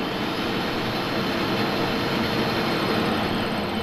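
Steady, dense drone of an airplane engine in Just Cause 3, heard from inside the plane, a loud continuous roar with no talk over it.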